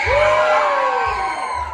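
An audience at a freak show at Six Flags whoops, screams and yells together in a loud, continuous burst of crowd noise.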